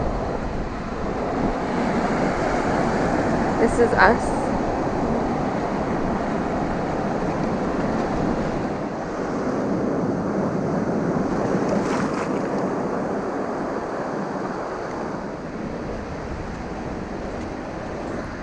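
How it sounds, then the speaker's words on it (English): Big ocean waves breaking on an outer reef in strong wind, a continuous roaring surf wash with wind buffeting the microphone; a voice speaks briefly. "So we're looking at the waves, and I think it's too surfy today to go out there"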